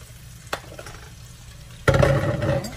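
Sliced zucchini sautéing in melted butter in a pan: quiet at first with a single sharp knock, then a loud sizzle bursts in as the vegetables hit the hot fat and keeps hissing steadily.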